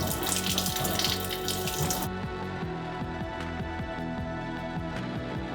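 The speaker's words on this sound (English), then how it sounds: "I will just hold it running and I will flush about 10 litres or so of water through there" Water gushes steadily from the spout of an INTU 4-in-1 boiling water tap with chiller while the tank is flushed, a loud continuous spray that softens slightly partway through, with a repeating mechanical pulse beneath.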